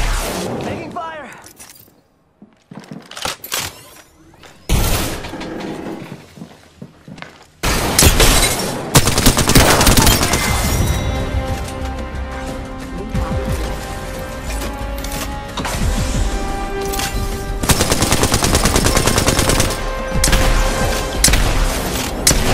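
Gunfire and crashing impacts in an Apex Legends match, loud rapid bursts filling the latter part after a quieter stretch, with a voice calling out under the action.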